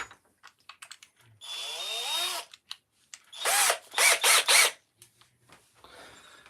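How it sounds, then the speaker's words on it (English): A power drill bores small pilot holes into wood during woodcarving work, sounding as one long whirring run followed by a burst of short repeated drilling pulses, close and loud with quiet handling noises between. "And these are little pilot holes."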